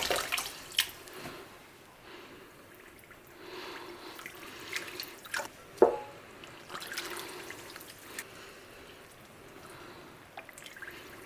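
Water runs and drips in a kitchen sink while crocheted pieces are soaked for blocking, a steady trickle with scattered splashes and drips, fairly close and moderate in level, with no talking.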